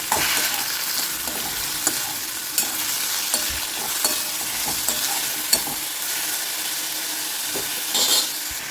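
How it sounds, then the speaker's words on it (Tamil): Chopped tomatoes sizzle and fry steadily in a hot pan while a utensil stirs and scrapes now and then, loud and close. "இதையும் இப்போ நல்லா வதக்கி விட்டுருவேன்"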